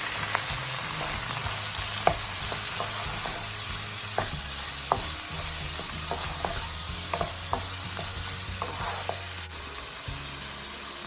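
Tomatoes frying and being stirred in a pan for saag aloo, a steady close sizzle broken by repeated sharp scrapes and clinks of the stirring utensil against the pan.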